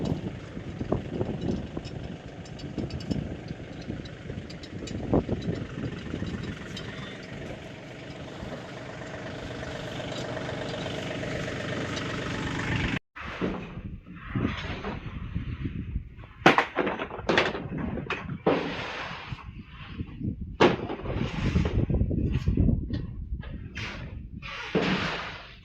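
A loaded tractor idles with a steady rumbling drone while pomegranates are unloaded, then the engine noise gives way to irregular knocks and clunks close by.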